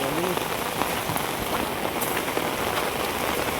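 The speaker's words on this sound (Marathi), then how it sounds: "पाऊस पण झोऱ्यात आलाय" Steady rain patters on a surface, a constant close hiss with scattered individual drops, with no voices.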